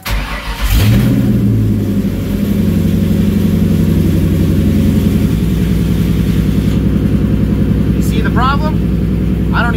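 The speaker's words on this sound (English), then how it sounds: "Mustang's running." A Ford Mustang with fuel pump trouble starts up and runs, its engine loud and close with a steady rumbling idle and a brief rev near the start; a few faint squeaks come late in the run.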